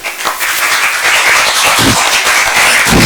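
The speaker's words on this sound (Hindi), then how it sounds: "तालियां बजाएं इसके लिए" A classroom group applauds together in a dense, continuous burst of clapping that stays loud and steady throughout, with no voices over it.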